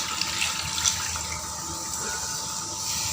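Water pours steadily into a pot of chicken kurma with potatoes, a continuous hissing rush close by that holds an even level throughout with no talking.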